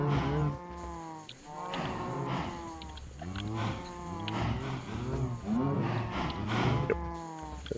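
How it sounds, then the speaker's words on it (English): Cows in the Minecraft modpack Enigmatica 2 keep up a near, overlapping chorus of drawn-out moos. Low, rising and falling calls follow one another almost without pause. "I have some cows."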